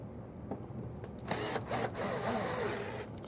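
Power drill driving flat low-profile screws into a drawer slide on an old vinyl-covered kitchen cupboard, heard as two close whirring bursts of about half a second each with short pauses between them.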